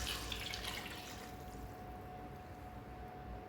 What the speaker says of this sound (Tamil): 2 கிளாஸ் தேங்காய் பால் ஊற்றிக்கலாம்